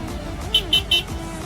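A new PC200 excavator's heavy diesel engine starts and rumbles low and steady while three short, high electronic beeps sound in quick succession.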